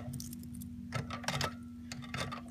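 Keys jangle and clink in several short bursts while an alarm system is reset, close and clear over a steady low hum, with no talking.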